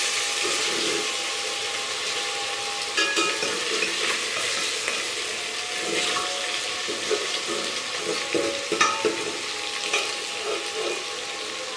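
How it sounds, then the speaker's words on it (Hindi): Fish for a curry fries in a pan on a low flame, giving a steady, even sizzle and hiss throughout, with faint scrapes and bubbling, and no talk. "हम बगैर चम्मच चलाए इसी तरह स्लो आंच पे थोड़ा सा इसको नीचे से भूनने देंगे"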